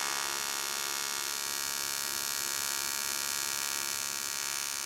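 A TIG welding torch starts a weld pool at the edge of a steel plate, giving off a steady, even electrical buzz and hum that holds at one level throughout, close and continuous, with no talking.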